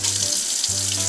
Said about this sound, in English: Get the warm water. Make sure it's hot.